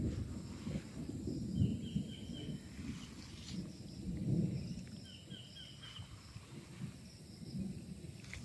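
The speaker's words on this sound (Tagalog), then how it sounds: "kumukulog, medyo umuulan po ngayon" Low rumbles of thunder roll in softly over a coconut farm in Pagsanjan, Laguna, with a faint hiss of rain and insects chirping high and thin in the background.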